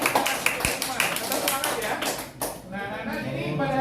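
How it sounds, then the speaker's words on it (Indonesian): A classroom of students claps briefly in quick, even strokes, then the clapping fades as a voice starts talking. "Tepuk tangan untuk kita semua."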